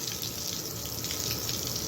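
Water splashed and running across a courtyard during washing, heard as a steady close-up rush and spatter that fills the whole stretch with no talking.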